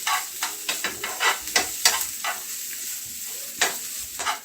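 Cabbage, coconut and onion filling for wheat momos stir-frying in a pan, crackling sizzle with repeated quick scraping stirs, close up and moderately loud, with no voices.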